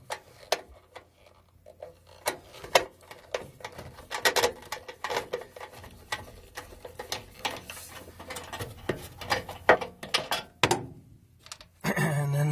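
A driver works 5/16 screws out of the blower housing of a Carrier 58SXCO80-GG gas furnace, producing irregular close clicks and light metallic ticks, ending in a brief steady hum.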